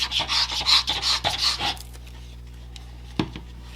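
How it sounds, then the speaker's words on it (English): A folded paper card base is burnished along its score line in several quick rubbing strokes, close and fairly loud, followed by quiet and a single soft tap. "Go ahead and fold along the score line of the card base and give that a burnish"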